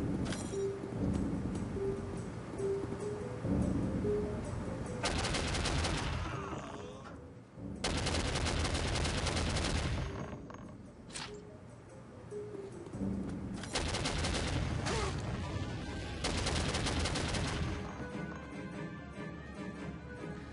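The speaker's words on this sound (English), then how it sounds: "I love how huge the rockets are from this guy's rocket launcher." Explosive rocket launcher blasts and rapid gunfire in the Soldier of Fortune video game, with several loud, long broadband bursts separated by brief lulls and a steady low game hum beneath.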